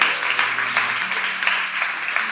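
A church congregation applauds during worship, a steady, fairly loud wash of clapping with small rhythmic surges and a low hum underneath throughout.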